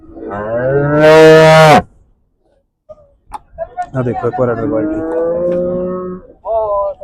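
A loud, drawn-out moo from a large cow rings close by at the Khanna livestock market, followed after a pause by someone talking, then a short tonal call at the end.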